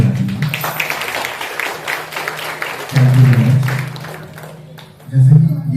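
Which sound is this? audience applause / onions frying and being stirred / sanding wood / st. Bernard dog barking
audience applause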